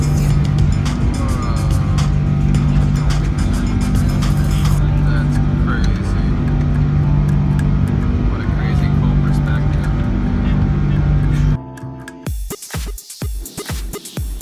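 A loud, steady jet engine roar fills the cabin of a passenger plane during takeoff for a long stretch with constant low hum, then drops off as talking begins.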